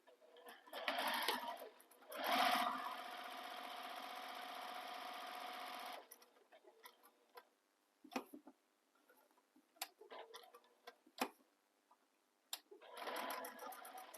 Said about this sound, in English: So I'm just stitching all the way around.